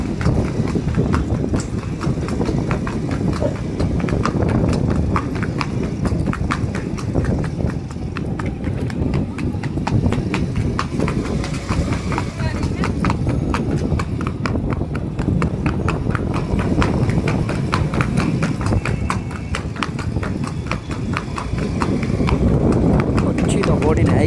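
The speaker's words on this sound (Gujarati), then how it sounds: "પછી તો રાતે કાઢી ઘોડી આપણે," A mare's hooves clip-clop in a steady, quick rhythm on a hard surface at night, continuous and fairly close throughout, with people talking over the hoofbeats.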